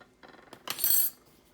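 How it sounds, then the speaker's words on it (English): A metal whisk clinks briefly against a pan while melted butter sauce for lobster and shrimp Alfredo is mixed: a few quick, faint scraping taps that swell into a short burst of bright clatter, then die away. "So we're just going to whisk this down"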